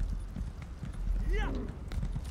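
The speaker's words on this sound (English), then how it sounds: "I'm just cruising along on my horse" Horse hooves clip-clopping at a steady trot while riding in the Elder Scrolls Online video game, with a brief whinny, someone talking over the game sound.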